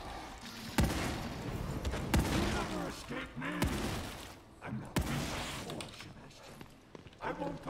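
Gunfire in The Evil Within 2 comes as several sharp shots spread across the stretch, mixed with game effects while someone talks over most of it.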